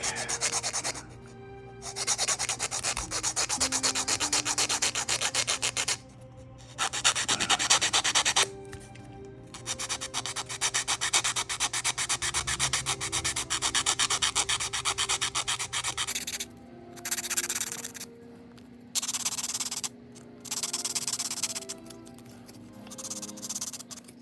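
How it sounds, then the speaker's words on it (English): Sandpaper of 180 grit rubbed back and forth over a Tamiya Tiger I plastic model tank kit, close rasping strokes in bursts of several seconds separated by short pauses. "So I'm using 180 grit. Sand that back."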